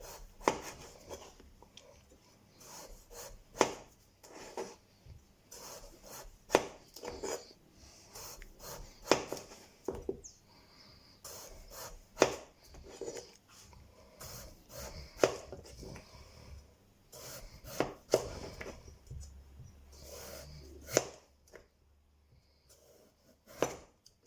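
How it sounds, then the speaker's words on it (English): Washed potatoes with skins on are sliced about half a centimetre thick with a knife, giving a quiet, close series of irregular crisp cuts and taps on a board, with no talking. "now I'm going to slice them in about ½ centimetre"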